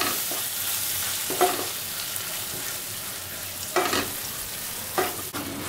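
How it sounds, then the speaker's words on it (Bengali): Spoon stirring a yogurt and rice paste through a frying pan for a jackfruit and prawn curry, with several scraping strokes over a low steady sizzle, fairly close. "এবার দিয়ে দিচ্ছি দই আর চাল মগজের যে পেস্টটা বানিয়ে রেখেছিলাম সেটা দিয়েও একটু ভালো করে নাড়াচাড়া করছি"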